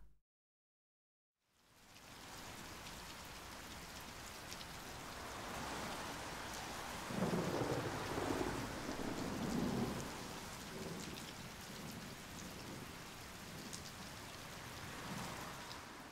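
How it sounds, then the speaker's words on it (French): Rain falls on an apartment building in Paris as a steady, dense hiss of drops that swells louder for a few seconds midway, with a low rumble underneath, then settles back to an even patter. "Il pleut sur Paris. Les clapotis de l'eau, tombant sur son immeuble"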